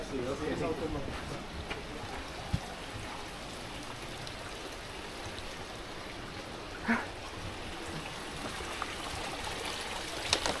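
Waterfall near Aguas Calientes, the Machu Picchu tourist town, giving a steady broadband rush of flowing water throughout, with a couple of brief knocks and footsteps layered over it.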